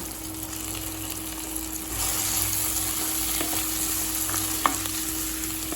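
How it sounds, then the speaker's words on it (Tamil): Cashews and coconut powder sauté in a pan, giving a soft, steady sizzle with faint stirring scrapes, close and quiet with no talking. "லேசாக வதக்கினீங்கன்னா போதுங்க."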